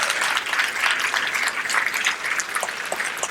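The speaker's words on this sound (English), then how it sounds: "So let's give a round of applause to that" An audience at a talk gives a round of applause, a dense, even patter of many hands clapping at moderate volume with no speech over it.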